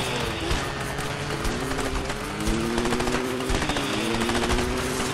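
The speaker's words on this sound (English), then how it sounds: "They've got a machine gun on the back of that Jeep!" Rapid machine gun fire from a mounted gun on the back of a Jeep during a chase in the video game A Way Out, a dense continuous rattle that stays loud throughout, mixed with engine rumble.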